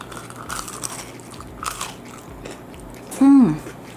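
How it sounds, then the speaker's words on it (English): A crisp bite into a hot, deep-fried eggplant baiganee fritter lands as one loud sharp crunch near the end, after soft handling sounds and brief low speech. "I'm going to bite into it so you guys can hear how crunchy it is."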